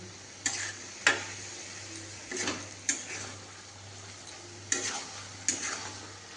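Coconut and pumpkin stir-fried in a pan, a low sizzle punctuated by about six sharp spatula scrapes and clinks against the pan at uneven intervals, close and without speech.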